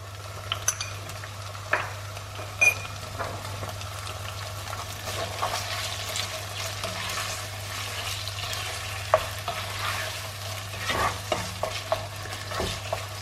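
Chicken fries in a pan with ginger garlic paste, giving a continuous close sizzle with frequent spatula scrapes and light clinks over a low steady hum, without any talking.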